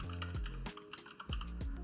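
Quick, close computer keyboard keystrokes in short bursts with brief pauses, entering a site name into a web server manager.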